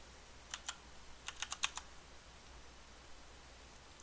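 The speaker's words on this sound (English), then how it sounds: "I hit Control and I can type in" Computer keyboard keys clicked in a short burst of a few taps, then a quick cluster of faster keystrokes, fairly faint and close against a quiet background hiss.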